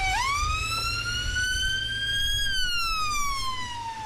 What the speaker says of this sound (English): As an ambulance rushed by taking the injured to hospital